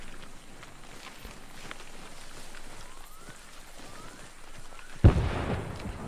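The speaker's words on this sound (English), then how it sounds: "See, did you hear that explosion?" A single sudden bomb blast in Arma 3 bursts out near the end, loud and booming, trailing into a rumbling decay over a steady background of rain-like noise.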